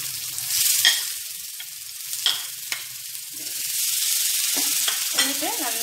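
Chopped onion goes into a pan with ginger and garlic for a prawn gravy. A soft sizzle runs under scattered clinks and scrapes of stirring, with a brief louder hiss near the start.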